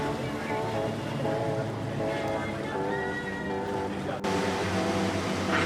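A boat runs steadily over smooth water, with an even engine drone mixed with water rush and wind and a voice talking over it.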